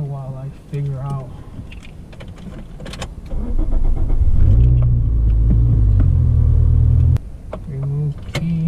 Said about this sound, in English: Let me turn on the car while I figure out.